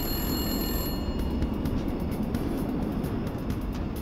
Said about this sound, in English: watched helplessly as the phone began ringing